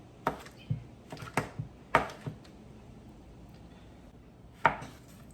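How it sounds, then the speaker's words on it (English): A knife slices through a stick of butter on a board, a few irregular taps and slices, close and fairly quiet, with pauses between cuts. "we're gonna slice it up and put on top of the onions"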